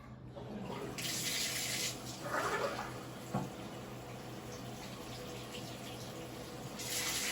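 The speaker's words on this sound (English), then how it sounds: "just run some lukewarm water through your bell and have it come out the lead pipe" Lukewarm water runs through a trumpet, entering at the bell and draining out the lead pipe, a steady tap-fed splash and trickle that holds throughout with a brief louder gush near the start and end.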